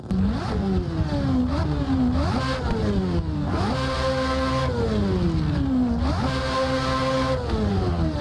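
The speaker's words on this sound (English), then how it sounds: "It's one of the best sounding engines out there, a 4-rotor with 1100 horsepower." A 1100-horsepower 4-rotor rotary engine in a Nissan S15 drift car revs hard and loud, climbing and dropping in pitch again and again in quick repeated blips with a buzzing, rasping tone.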